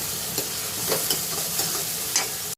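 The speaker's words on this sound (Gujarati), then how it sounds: "મેં ટામેટા નાખી દીધા છે અંદર ટામેટાને હવે ચડવા દઈશ થોડી" Tomatoes frying and sizzling in a pan while cooking palak moong dal, a steady hiss with a few soft stirring scrapes, close and moderately loud, no talking.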